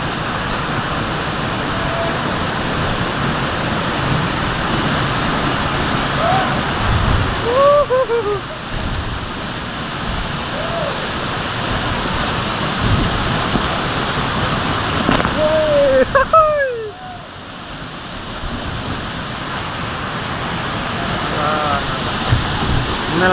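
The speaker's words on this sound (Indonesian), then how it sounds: "Inilah keindahan air terjun yang" A waterfall in Lombok rushes in a steady, close, broadband roar that never lets up, with a few brief voices or calls rising faintly above the water.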